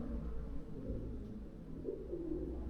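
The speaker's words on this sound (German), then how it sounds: "Und die Tauben." Pigeons coo softly inside an abandoned, forgotten bunker fort, low repeated calls steady throughout with a slightly louder coo near the end, no talking.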